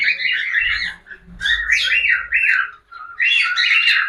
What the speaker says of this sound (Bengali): সবকটা পাখি কিন্তু লাফালাফি ঝাপাঝাপি ওড়াউড়ি সবই করছে